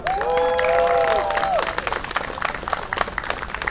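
An outdoor audience at a park gathering applauds, a dense wash of clapping that carries on throughout, with a voice speaking briefly over the opening moments.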